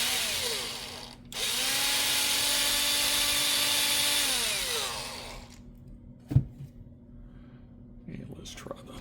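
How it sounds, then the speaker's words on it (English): A power drill whines at high speed for several seconds while boring out a hole in a small model freight car kit, then spins down, followed by a sharp tap and quiet handling noises. "So we'll drill that out real quick"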